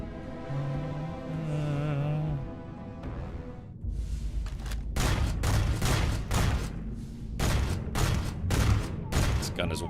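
A rapid burst of gunfire from a wildly inaccurate gun in Starfield rings out loud and close, sharp repeated shots after a quieter stretch where a voice speaks.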